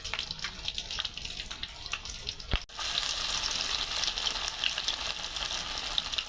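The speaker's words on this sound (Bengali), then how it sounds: "এবার ভাজা হইতেছে পেঁয়াজি।" Onion fritters (peyaji) deep frying in oil make a continuous bubbling sizzle close by, with a sharp clatter partway through followed by a denser, louder hiss.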